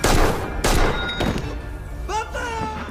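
Several heavy gunshot-like thumps hit in quick succession during a film action scene, booming and punchy, followed by a lingering tonal whine.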